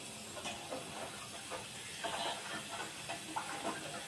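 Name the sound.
gulab jamun sugar syrup simmering on the stove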